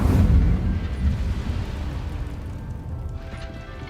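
The Incendio fire spell cast in Hogwarts Legacy makes a loud, low whooshing burst of flame at the start. It then rumbles and fades out over a few seconds.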